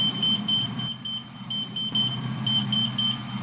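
A high electronic beep repeats in quick pulses, some grouped in pairs, over a low rumbling engine-like hum that runs underneath the whole time.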